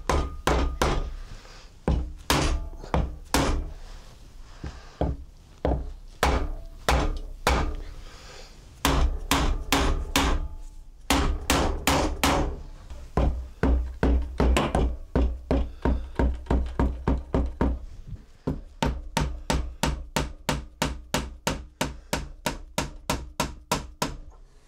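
A Triumph T140 motorcycle timing cover being tapped loose, a long series of sharp, hard knocks in uneven bursts, some slow and spaced, others quick and rapid, loud and close with no talking.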